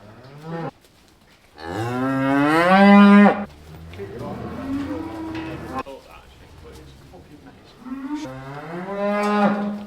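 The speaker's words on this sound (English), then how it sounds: "there's a few calves in here and hopefully we can catch them in the gangway and run them up" Cows and calves in a farm gangway moo loudly in several long, drawn-out calls, with a pause between them.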